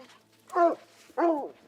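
Hunting dogs working a scent trail in rugged wild country let out two separate whining, yelping calls, moderately close, with quiet gaps between them and no talking.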